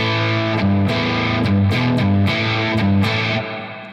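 A crunchy, overdriven electric guitar through a Marshall Super Lead amp model plays a short chord riff with rhythmic strums, loud and gritty, fading out at the end.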